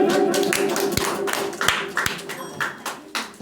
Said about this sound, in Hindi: इनके लिए भी जोरदार ताली होना चाहिए